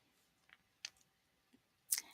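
A computer mouse click on a Save and Display button in a Moodle workshop settings page, heard as a few sparse, faint clicks with a sharper, louder click near the end, no talking.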